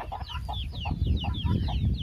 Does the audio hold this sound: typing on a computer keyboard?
no